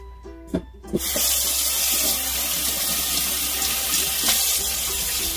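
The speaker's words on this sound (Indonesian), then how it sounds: "sekarang saya mau cuci satu-satu, saya mau bersihkan ya" Tap water runs steadily into a sink as turmeric leaves are washed one by one, a continuous hiss and splash after a couple of brief knocks at the start.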